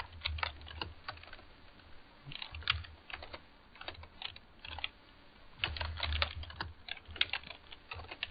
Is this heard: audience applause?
no